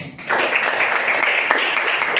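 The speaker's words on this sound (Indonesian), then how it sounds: "kita beri tepuk tangan untuk kita semua ya" A classroom of students claps together at a teacher's prompt, a dense, steady patter of many hands that starts after a brief pause and carries on evenly to the end, with no talking over it.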